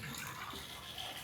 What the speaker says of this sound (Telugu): ఇవి స్ప్రెజర్ నీళ్ళు. సౌండ్ వస్తుంది